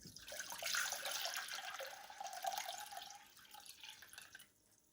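Water pours steadily from a tap into a cooking pot to boil rice, a close, continuous splashing and gurgling stream that stops near the end.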